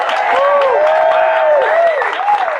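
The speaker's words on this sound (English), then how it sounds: "give him a round of applause" Crowd applause at a Texas state senate candidate's campaign speech, clapping mixed with loud whistles and cheering that rise and fall, close and full throughout the short burst.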